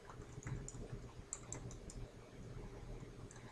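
Typing on a computer keyboard, soft scattered key clicks faint in a quiet room with a low background hum.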